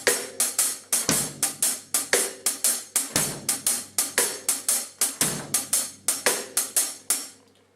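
A reggae groove on a drum kit with bass drum on beats one and three, steady crisp strokes repeating in a tight loop for several bars, close and loud with no voices over it.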